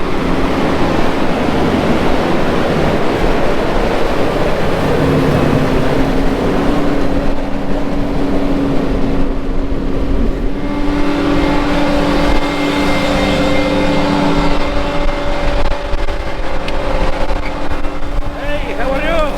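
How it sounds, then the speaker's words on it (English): A forage harvester chopper runs in a corn field, a loud, steady machine roar with a droning engine tone throughout, and people talking over it. "You guys can watch this chopper run"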